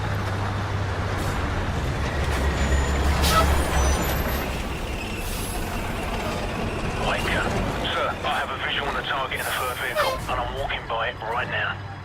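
An enemy convoy of six trucks and other vehicles approaches in the shooter game Modern Warfare, with a steady rumbling engine drone and hissing air-brake bursts. Radio-style voices talk over the vehicle noise in the second half.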